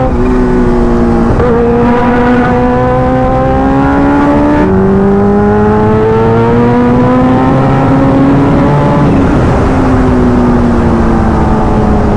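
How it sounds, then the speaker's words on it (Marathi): A car engine roars loudly and close on a road, its pitch sliding up and down with shifts and surges, sustained for around twelve seconds as if passing nearby. "अरे भाई क्या कार वाला आया, देखो क्या डेंजरस।"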